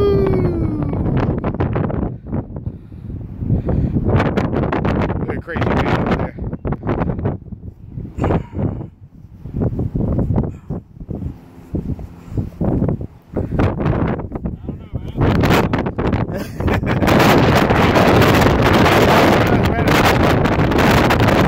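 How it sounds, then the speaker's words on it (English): Gusty wind buffets the microphone at a hiking trail lookout on Oahu, Hawaii, rumbling in waves that swell strongly near the end, with people talking intermittently over it. "the wind's definitely not as bad this time"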